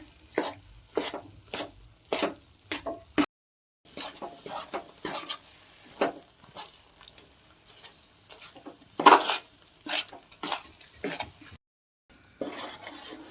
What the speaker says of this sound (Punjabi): ਆਟਾ ਭੁੱਜਣ ਲੱਗ ਗਿਆ ਵਾ ਹਜੇ ਟਾਈਮ ਲੱਗੂਗਾ ਇਹਨੂੰ ਹਲਾਈ ਜਾਣਾ ਵੀ ਥੱਲੇ ਨਾ ਲੱਗ ਜਾਵੇ